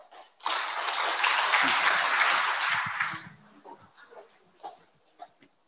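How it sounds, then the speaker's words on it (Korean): An audience at a Daegu civic evening of poetry and music applauds to welcome a Korean folk singer, a loud burst of clapping lasting about three seconds before it thins out into scattered claps and faint rustling. "박수로 맞아주시기 바랍니다"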